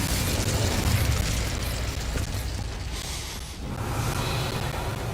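An Incendio fire spell cast in Hogwarts Legacy near a gate gives a steady, noisy burst of roaring flame. The sound dips briefly, then surges again, loud and close throughout.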